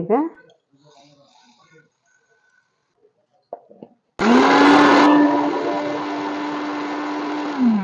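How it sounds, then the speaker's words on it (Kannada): After a short stretch of talk, a mixer grinder abruptly starts grinding roasted mustard and fenugreek seeds for lemon pickle, a loud steady whirring motor that runs for several seconds close by. "ಈ ಸಾಸಿವೆ ಮೆಂತೆ ಎಲ್ಲಾ ಹುರಿದಿಟ್ಕೊಂಡಿವಿ ನೋಡ್ರಿ. ಈಗ ಇವನ್ನ ಮಿಕ್ಸಿ ಮಾಡ್ಕೊಳ್ಳೋಣ"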